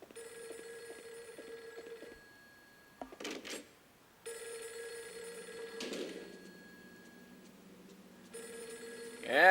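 A telephone rings in Project Zero 3 through several bursts with pauses between them. It is moderately loud under eerie game ambience and ends in a sharp louder sound.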